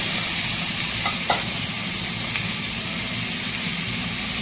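Prepared chicken frying in a pan for pepper chicken roast, giving a loud, even and continuous sizzle with a couple of faint clicks and no talking.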